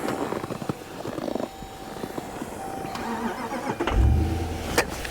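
A supercar's engine cranks and catches, and a low rumble swells near the end of the short stretch. Cabin noise and faint rustling sit around it, with no talking.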